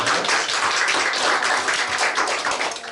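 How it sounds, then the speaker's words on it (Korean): A congregation applauds during a Korean Sunday church service, with dense, sustained clapping that fills the room and stays fairly loud until it tapers slightly at the end. "네, 영광의 박수 드리겠습니다."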